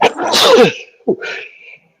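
A single sharp human sneeze bursts out near and loud, followed moments later by a shorter second sneeze-like burst that trails off into quiet.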